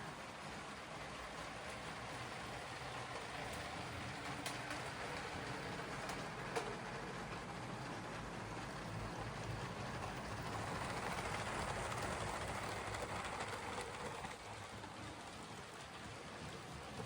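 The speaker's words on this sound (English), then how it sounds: "we now have the white Lego passenger train moving around on the outer mainline track" A Lego passenger train rumbles steadily along its tabletop layout track, a faint continuous whirring and rattling that swells a little midway through.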